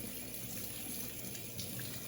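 Tap water runs steadily into a sink while hair is rinsed under it, a continuous close, even splashing with no talk.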